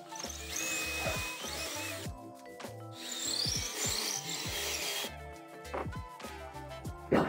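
A power drill bores holes through a wooden boat bulkhead part, with close, loud grinding and whining bursts that start and stop repeatedly, with rubbing and knocking between them.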